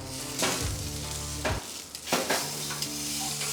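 Tri-tip sizzles steadily on a Monument Grills Mesa 400M four-burner propane gas grill, with a few sharp clacks and scrapes as the meat is flipped.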